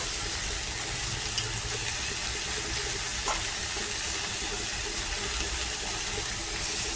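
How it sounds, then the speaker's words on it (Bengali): Taro curry cooking in a hot pan over raised heat, being stirred; a soft, steady sizzle and hiss continues throughout, with an occasional faint clink of the utensil. "এবার এটাকে ভালো করে নেড়ে নেবো।"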